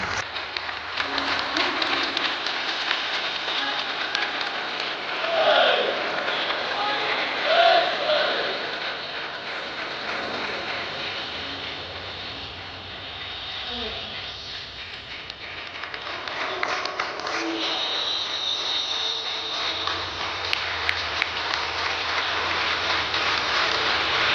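Audience applause at an award ceremony held by a cooperative society, a dense, steady wash of clapping from a large crowd that continues throughout, swelling and easing slightly.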